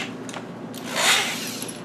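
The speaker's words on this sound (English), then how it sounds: "I'm going to see if it will drill into the C-channel." A drill drives a self-drilling screw into a steel C-channel, giving a short, close whirring grind that swells briefly and then eases off.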